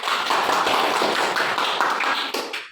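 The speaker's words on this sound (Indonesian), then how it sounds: "Tepuk tangan dulu" Pupils clapping together in a classroom lesson, a dense, steady patter of many hands that fades out near the end, with no talking over it.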